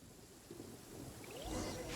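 Rumbling thunder in a lightning storm in Genshin Impact, a low roll building over rain and wind with no talk.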